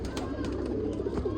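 Pigeons on a rooftop cooing, a short low rolling coo close by lasting about a second.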